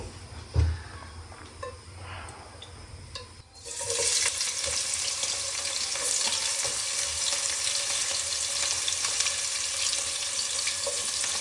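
Onions frying in hot oil for pulao, quiet clatter at first, then a steady hissing sizzle that starts suddenly and holds at moderate loudness.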